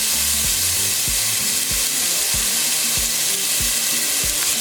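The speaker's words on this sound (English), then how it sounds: "we're just gonna cook them for about 1 minute or until our onion is translucent" Garlic and onions fry in a hot pan for baked ziti, giving a loud, continuous sizzle close up, with low knocks from stirring at irregular moments.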